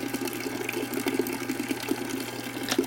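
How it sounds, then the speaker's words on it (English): Water pump in a solar-powered Genieye water system running steadily while filling a pail, a continuous near hum and splashing flow with a few brief clicks and knocks over the nearly three seconds. "As I tip the float down, it shows that there's no water in the pail, and the pump comes on."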